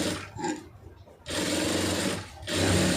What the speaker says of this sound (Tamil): திருப்பி இதில் ஒரு படிமான தையல் போட்டுருங்க